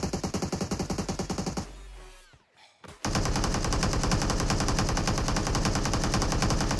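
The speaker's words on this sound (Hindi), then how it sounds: "मैं तो बस फायरिंग बजा रहा था अंधाधुन" Blind automatic gunfire in a shooter game, fired as a rapid even burst of loud shots, then a short near-silent gap, then a second sustained stream of fire that keeps going to the end.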